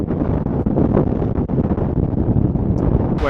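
Strong wind buffets the microphone near a Patagonian summit, a continuous low roar with gusty surges and dips over a few seconds, loud and close with no voices.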